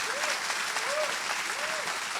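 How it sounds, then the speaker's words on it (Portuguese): Audience applause for Hélio Beltrão at a panel discussion, a steady wash of clapping at moderate level throughout, with a faint voice rising briefly under the noise several times. "uma salva de palmas para o Hélio"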